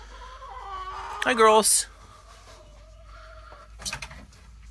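Hens clucking in a backyard coop near ground-laid eggs, with a sharp burst of squawking in the middle and softer clucks around it, while a person speaks briefly over them.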